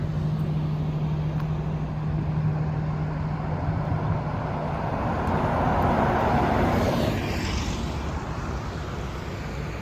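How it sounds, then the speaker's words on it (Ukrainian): Old Schumacher company bus passing along a riverside embankment in Bremen, a steady broadband engine and road rumble that swells as it draws near around the middle and then fades, with no talk. "Автобус фірми Шумахер."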